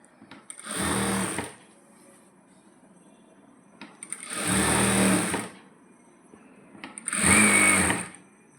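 Sewing machine stitching a cross piece onto a coat, running in three separate bursts of about a second each with quiet pauses between, close and fairly loud.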